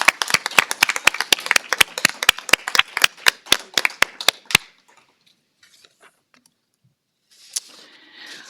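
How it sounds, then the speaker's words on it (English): A small group at a quarterly staff awards event claps in a brisk, evenly spaced rhythm for several seconds, then stops abruptly, leaving near silence and a brief rustle afterward. "Let's give them a round of applause."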